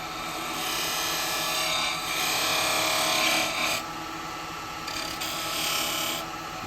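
Spindle gouge cutting a burr wood clock blank on a lathe, a loud, steady hissing rasp over the motor's hum, swelling and easing with each pass before dropping off, close by with no speech.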